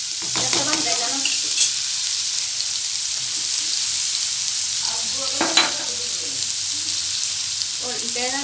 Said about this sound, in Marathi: मस्त असं हलवून घ्यायचा कांदा टाकून. जास्त भाजायचं नाही